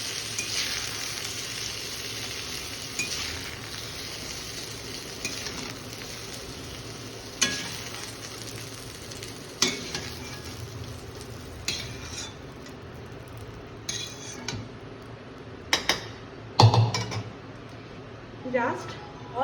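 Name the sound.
eggplant pieces frying and being stirred in a pan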